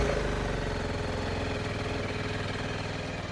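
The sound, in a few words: motorcycle engine starting and idling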